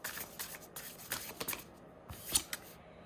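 Tarot cards are shuffled in the hands in several quick bursts of crisp riffling and flicking, close and quiet, with brief pauses between the bursts.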